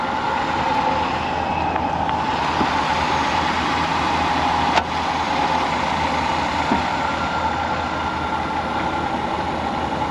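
A vehicle bought sight unseen from Copart runs with its hood up, its engine holding a steady, even idle hum for about ten seconds. The sound is close and constant, with no voices.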